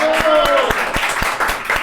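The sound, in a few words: applause from podcast audience and team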